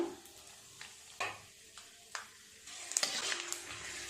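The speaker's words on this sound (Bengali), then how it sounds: "আমি একটু বাদাম আর কারি পাতাও ভাজা করে নেব" Peanuts fry in a little oil alongside curry leaves for crispy shredded potato fries, a faint, soft sizzle punctuated by light clicks and scrapes of stirring, growing busier and louder toward the end.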